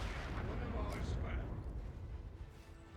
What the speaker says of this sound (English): so far the explosives have been super effective